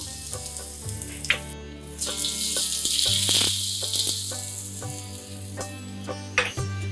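Half a spoon of asafoetida goes into very hot oil that has cooled slightly, setting off a close, crackling sizzle. Clinks and stirring noises from a utensil come over it, and a low steady hum runs underneath.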